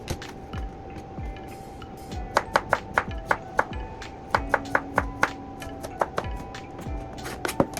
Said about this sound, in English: keep chopping, chop everything.